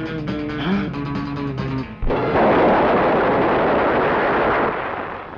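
After a few seconds of tonal music, a huge roaring blast erupts and rumbles on loudly, a single sustained bomb explosion in a Telugu film scene, filling the rest.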